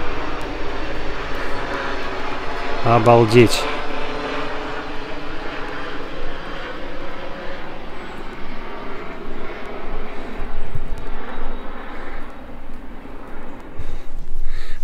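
A steady aircraft engine drones loudly throughout, a low rotor-like rumble passing overhead, with a brief exclamation from a nearby voice.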